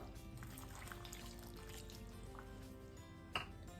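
A small amount of water is poured into a green tomato curry made with dried neththali fish, a faint, soft liquid trickle in a quiet kitchen.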